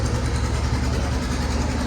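A Penske-run GT race car engine runs steadily at close range, a dense, even mechanical drone with a low rumble and no clear revving changes.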